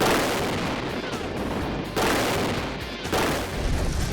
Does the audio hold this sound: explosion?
yes